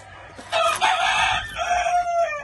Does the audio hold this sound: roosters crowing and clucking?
yes